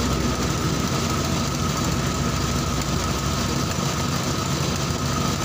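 A motorcycle engine runs at a steady raised speed of about 1,800 rpm, with the throttle held rather than dropping. It is a continuous, close, loud mechanical drone with no talk.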